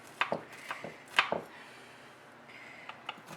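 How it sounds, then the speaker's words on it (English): A buttered knife cuts Rice Krispie treats into squares, giving several soft, close chopping taps against a board in an irregular rhythm, fairly quiet with gaps between cuts. "Actually, I'm going to start off by cutting them in squares."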